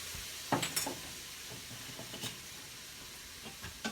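Food sizzling as it is stirred in an Instant Pot while cooking black-eyed peas, steady hiss under scattered spoon scrapes and light clinks against the metal pot, no talking.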